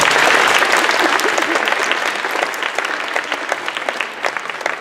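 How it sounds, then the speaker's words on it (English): A school assembly audience claps loudly, a thick burst of many hands that starts strong and slowly eases, with scattered distinct claps standing out as it tapers. "So clap your hands, ladies and gentlemen"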